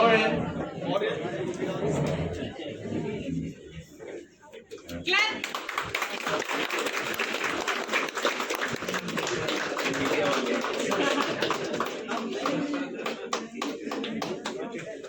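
Audience at a farewell event for a September morning batch of IAS students clapping in a sustained burst of applause, following a spoken introduction with chatter and voices mixed in.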